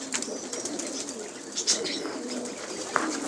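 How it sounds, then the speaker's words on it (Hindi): Fancy pigeons coo in low, soft rumbling calls amid a busy flock, with occasional chirps and brief flutters nearby. "फैंसी कबूतर"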